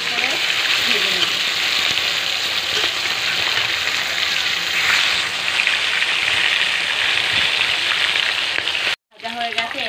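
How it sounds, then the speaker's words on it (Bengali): Hilsa fish pieces frying in oil in a pan, a steady dense sizzle and crackle running loud and close throughout, briefly cut off near the end before resuming. "সব মাছগুলি আমি এবার ভেজে নেব"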